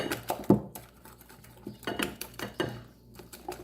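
Banana bread batter with cinnamon being stirred in a bowl, a spoon scraping and clinking against the sides in a quick, irregular rhythm of close, moderately loud knocks.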